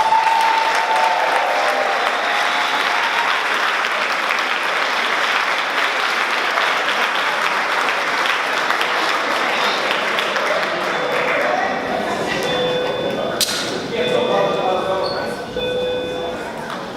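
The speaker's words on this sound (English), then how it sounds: "I want you guys to give a round of applause for our owner and GM, Mr. David Banks" Loud, dense applause from a large convocation audience, a steady wash of clapping that fills the space from start to finish and thins slightly toward the end.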